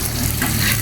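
Garlic frying in a pan until golden brown for garlic fried rice, a loud, dense, continuous sizzle crackling without pause over a brief moment, with no talking.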